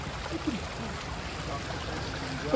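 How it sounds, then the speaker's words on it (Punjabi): Steady broadband rush of floodwater flowing fast through a village near Nakodar, Jalandhar district, continuous and fairly loud throughout, like a fast current close by. "ਇਧਰਲੇ ਪਾਸਿਓਂ ਪਾਣੀ ਆ ਰਿਹਾ ਬਹੁਤ ਤੇਜ਼ੀ ਨਾਲ"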